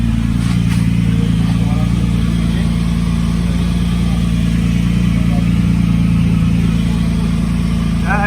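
A BMW E36 325i with a turbocharged engine running steadily close by, a loud continuous idle with an even low throb, and a brief faint rise in revs near the end.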